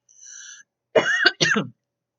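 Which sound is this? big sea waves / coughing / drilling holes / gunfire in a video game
coughing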